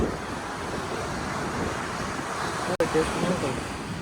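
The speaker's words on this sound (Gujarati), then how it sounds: "આ દરિયાની લહેરો આવતી હોય" Sea waves wash steadily onto a beach at sunset, with a constant roar of surf and wind buffeting the microphone and a faint murmur of people in the background.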